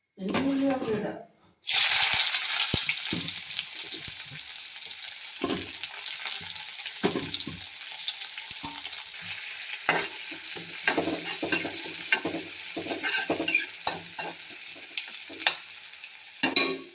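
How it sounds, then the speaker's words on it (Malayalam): Mustard seeds crackling and spluttering in a hot pan while tempering chicken curry, opening with a loud sizzle, then irregular close pops and stirring clatter throughout. "ഇനി അടുത്ത് കടുക് പൊട്ടിച്ച് കൊടുക്കാം കേട്ടോ"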